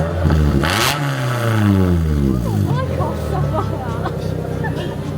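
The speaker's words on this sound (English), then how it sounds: "it's basically one bit of straight pipe, and to say it's loud is a bit of an understatement" A race car with a loud straight-pipe exhaust revs hard at a racing circuit. The engine note climbs and falls in repeated sweeps, close and dominant over a hubbub of crowd chatter.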